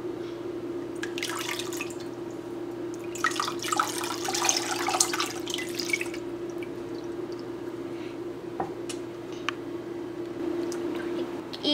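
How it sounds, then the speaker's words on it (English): Hands swish and splash in a basin of water, giving bursts of wet sloshing and dripping over a steady low hum, loudest in the middle of the stretch and quieter toward the end. "You can also put your hands inside the water to wash off the rest of the germs."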